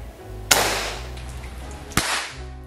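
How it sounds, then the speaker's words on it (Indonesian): A Gejluk DWP Fusion OD 22 air rifle fires two sharp, loud cracks about one and a half seconds apart. Each crack is followed by a short decaying hiss, heard up close against a low steady background hum. "seperti itu tadi untuk tes power dari senapan angin Gejluk DWP Fusion"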